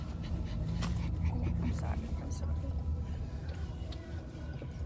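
A dog pants rapidly and audibly nearby over a constant low engine-like rumble, with faint whimpering sounds.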